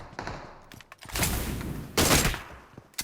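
Gunfire rattles in the Free Fire video game during a Naruto-themed event match, with bursts of rapid shots and sharp cracks rising and falling over about three seconds, loud and close.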